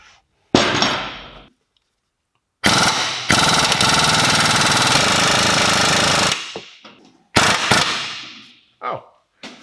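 A pneumatic impact wrench works a control arm bolt on a Renault Megane 3, giving loud, close rattling hammer bursts, with one long sustained run in the middle and shorter bursts before and after.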